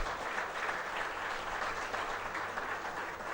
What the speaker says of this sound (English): I want an applause to be given to Paul Raj and all the colleagues.